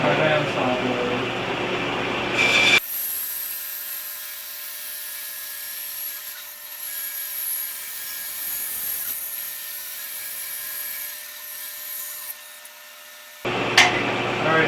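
A bandsaw rips through wood while roughing out a walleye decoy, a loud sustained whining hiss with high buzzing, bracketed by brief louder bursts at the start and end.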